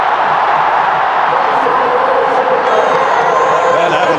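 A huge crowd of cricket supporters in a packed stadium during a final roars and cheers in a steady, dense wall of sound with no breaks, with commentary talk under it.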